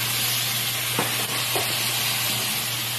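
Rice frying in a pan while being stirred, a loud, continuous close sizzle with a few soft scrapes of the spoon and a low hum underneath.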